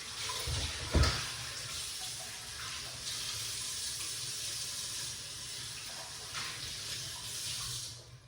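Ginger and beetroot rinsed under a running kitchen tap, a steady close hiss of water with a brief splash near the start as the roots go under the stream, no talking.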